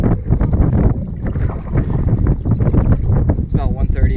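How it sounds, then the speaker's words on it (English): A headwind on the Mississippi River near Monticello buffets the microphone during a solo boat trip, loud gusty roaring and rumbling throughout, with a voice talking over it. "We're finally getting a little bit of a headwind here today."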